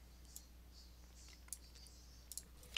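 A computer mouse clicks in Blender 3D software, giving a few sharp, faint, isolated clicks at irregular intervals in an otherwise quiet room.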